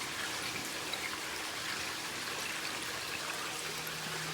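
Water drains steadily from a flood-and-drain grow bed into an aquaponic sump tank, a continuous close trickle and splash that holds an even level throughout with no talk.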